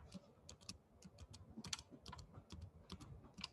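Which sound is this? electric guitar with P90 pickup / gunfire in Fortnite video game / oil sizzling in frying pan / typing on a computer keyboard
typing on a computer keyboard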